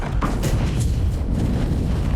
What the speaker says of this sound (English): that's a serious explosion